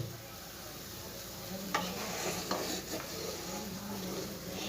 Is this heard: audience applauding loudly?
no